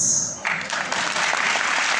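Audience applause before a concert begins, breaking in after a short bright tone and then rising into a full, steady burst of clapping.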